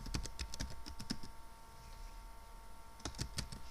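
Typing on a computer keyboard while writing JavaScript code: two bursts of quick, close key clicks separated by a quiet pause, with no talking.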